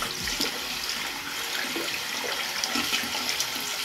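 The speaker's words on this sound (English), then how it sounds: "Washing off my hands." Tap water runs steadily as soap is rinsed off hands, a soft continuous hiss and splash under faint clatters, with no speech.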